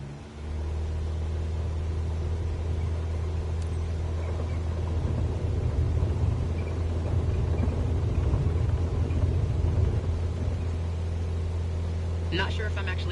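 A light aircraft engine in Microsoft Flight Simulator 2024 on PS5, preparing to take off from a tiny runway, holds a constant low droning rumble from start to finish, with speech occasionally over it.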